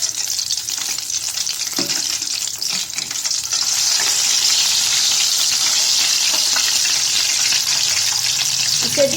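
Whole fish frying in a cup of oil in a pan, a steady, dense sizzle running loud and continuous throughout, swelling slightly midway with an occasional faint clink near the end.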